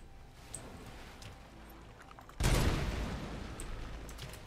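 Explosive rounds fire in the shooter game RoboCop: Rogue City: after a quiet stretch with small ticks, a sudden loud blast of gunfire erupts and rumbles on steadily to the end.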